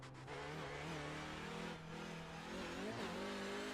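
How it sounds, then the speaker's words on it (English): TCR touring race car in iRacing at Suzuka, engine note dropping and rising as it brakes hard and downshifts into second gear, loud and continuous with blipped revs near the end. "Down to second gear."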